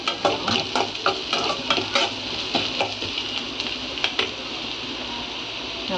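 Onions stir-fried until golden for a mushroom dish: a steady sizzle in the pan with repeated scraping and stirring clicks near the start, settling into an even frying hiss.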